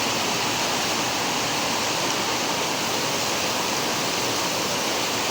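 Dense, continuous downpour roaring evenly and loudly, a steady wash of pouring rain with no pauses or voices.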